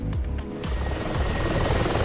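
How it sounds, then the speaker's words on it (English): A Chinook helicopter in a flight simulator game flies close behind, its heavy rotor chop and engine drone filling the clip loudly and steadily with no talk. "Oh, there's that Chinook right behind me."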